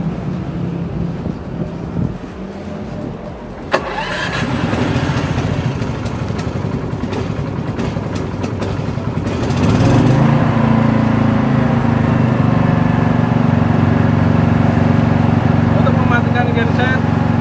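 An AIPOWER SM4500i Plus smart inverter generator is started by remote: after a quiet stretch with wind buffeting the microphone and a sharp click, the engine catches and settles into a loud, steady close drone, with someone talking over it.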